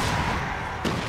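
Gunshots in Alan Wake ring out as a dense, booming barrage with one sharper report near the end, loud and close with no voices.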